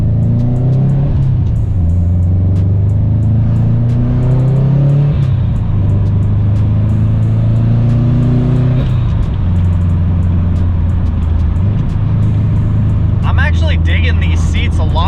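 A 2007 Subaru WRX STI is driven with its engine revving, a loud steady drone that climbs in pitch, drops at each gear change and climbs again, with a brief rattle near the end.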